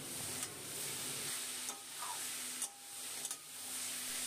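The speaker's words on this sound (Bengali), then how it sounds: "শাকটা একটু ভাজা ভাজা করে নেব" Red amaranth greens with fried lentil dumplings stir-frying in a pan, a steady close sizzle and hiss with occasional scraping strokes of the spatula.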